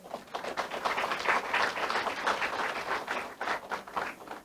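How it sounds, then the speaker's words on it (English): An audience gives a round of applause for teachers and lecturers at a memorial lecture, steady dense clapping from many hands sustained at a moderate level throughout. "I want to hail the teachers in the house, the lecturers. Give them a round of applause."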